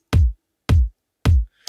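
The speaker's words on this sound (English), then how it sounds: "And Silver Lake sounds like this." Three separate kick drum hits from the Silver Lake kit piece in Logic Pro's Drum Machine Designer, each a punchy, deep low-end thump with a short decay. They fall at an even, steady spacing, loud and dry, with no talk over them.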